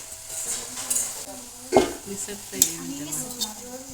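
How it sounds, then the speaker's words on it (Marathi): Puffed rice snack mixed with sugar, salt and fried garlic in a metal vessel, a few scraping strokes with clinks of a spoon against the pot and faint voices in the background. "साखर मीठ हे सर्व मिक्स करून घ्यायचं आहे"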